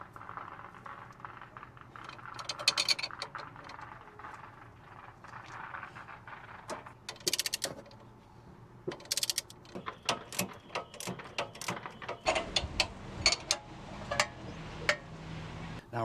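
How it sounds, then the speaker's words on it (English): An Allen wrench tightening the nut and bolt on a sway bar of a Honda Ridgeline during a leveling kit install, heard as close, quiet ratcheting clicks in irregular bursts, growing sharper toward the end. "this is the nut and bolt combo that you have to use the Allen wrench to tighten it"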